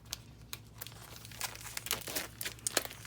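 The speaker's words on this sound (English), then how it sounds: "Just take my scissors here and slice that open." Scissors slicing open the plastic packaging of a paper craft kit, a run of close, crisp crinkling and tearing bursts in quick irregular succession, heard alone.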